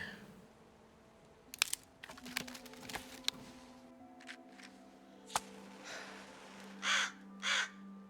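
A crow caws repeatedly in the winter map of DayZ, a few harsh calls spaced across the clip and clearest as two loud caws near the end, alongside scattered crunching and clicking.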